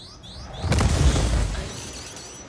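Torpedoes striking a starship's shields in a video game, a single booming impact that swells and rolls off over a second or so, with sweeping electronic tones fading around it.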